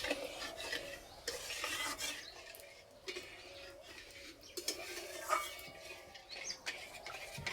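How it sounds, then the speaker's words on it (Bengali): Semolina in milk stirring in a pan over low heat, a soft, continuous scraping and swishing that carries on throughout with no talk. "এই সুজিটা হালকা আঁচে রান্না করে নিতে হবে।"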